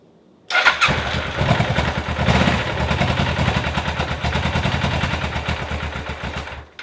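A Suzuki GS500 motorcycle in neutral fires up abruptly after silence and settles into a loud, close, rapid uneven idle, its exhaust pulses popping steadily without choke.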